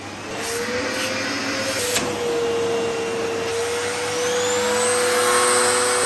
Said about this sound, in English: Listen to the power of the suction on this turbo brush.